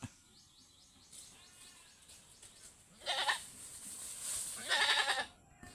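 A goat bleats twice near an avocado tree, two loud wavering cries about two seconds apart over quieter background rustle and faint bird calls.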